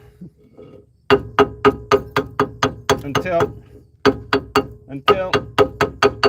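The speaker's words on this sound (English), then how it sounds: "I'm going with the inexpensive option, which is banging on it with a hammer" Sharp, loud metallic hammer blows knock rust off brake pads in a steady series of rhythmic strikes, close by, with a short pause partway through and a brief spoken word.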